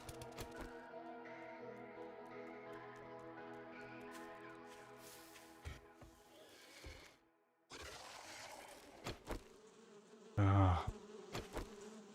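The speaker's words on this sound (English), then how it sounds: "Incoming bees." Bees buzz in the survival game 7 Days to Die, a sustained droning swarm under music and digging sounds, followed by a loud close burst near the end.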